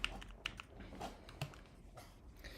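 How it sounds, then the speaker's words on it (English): Keystrokes on a computer keyboard being typed on during a live stream, sounding as sharp, irregular clicks and taps spread across a few seconds, fairly close but not loud, with no talk over them. "It does not sound as good as my other keyboard"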